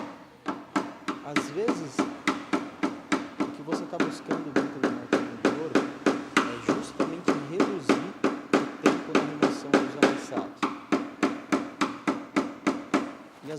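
A small hammer taps steadily on a car body panel during paintless dent repair, dozens of quick, even, ringing metal knocks in a fast regular rhythm, close and continuous, with a voice talking faintly underneath.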